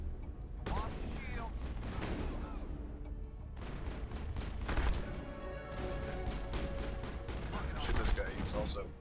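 Allied gunfire in the Mass Effect video game crackles in bursts throughout, a continuous layered barrage of shots and blasts with voices and game effects mixed in.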